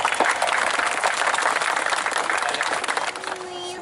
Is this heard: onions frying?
no